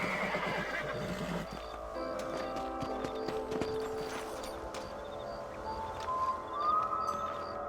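A horse whinnies and hooves clip-clop in the Red Dead Redemption video game on Xbox One X, moderately quiet, mixed with faint ambient game sounds.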